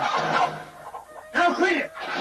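A chicken clucks in repeated bursts in a western film scene, fairly close and loud, with brief pauses between the squawking runs.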